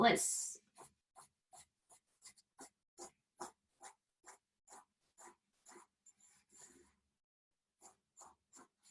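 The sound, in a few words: pen or pencil drawing on paper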